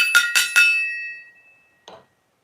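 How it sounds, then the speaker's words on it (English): A gong struck during a live show rings out with three quick, loud metallic hits, then a long shimmering decay and a short faint knock. "By the way, I have to hit the gong."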